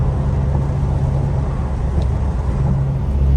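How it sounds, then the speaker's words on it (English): A Saab soft-top car cruises along a road on a long-distance drive, a loud steady engine and road rumble with a low droning hum, no voices. "The Saab is a brilliant car for long distance driving."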